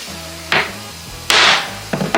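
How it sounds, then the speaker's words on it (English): A center punch is struck with a hammer to mark a drill hole, three sharp close metallic taps spaced unevenly over a low background hum. "We'll take a punch, put it in the center of our hole."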